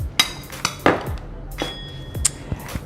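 A spoon clinks and taps repeatedly against a bowl while chicken is mixed with salt, chili powder and other curry marinade spices, making sharp, irregular metallic knocks close up.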